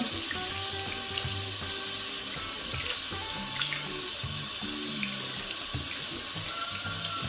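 Running tap water streams steadily into a sink while makeup brushes and blenders are rinsed and squeezed, a continuous close splashing hiss with small shifting gurgles and no speech.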